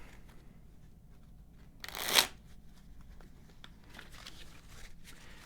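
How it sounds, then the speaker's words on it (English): A single quick riffle of board game cards, a short crisp burst close by, followed by soft card handling and light tapping in a quiet room. "Go ahead and shuffle these up."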